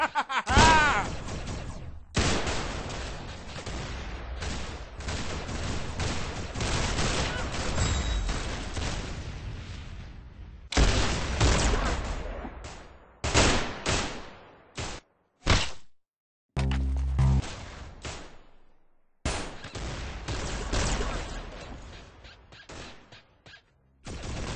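Gunfire from the video game Arsenal comes in repeated sharp, punchy bursts broken by brief silent gaps, loud and close, with heavy recoil thuds.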